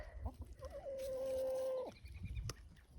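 Bielefelder chickens on a farm give a sustained drawn-out call with a few short clucks before and after, fairly close against low farmyard rumble.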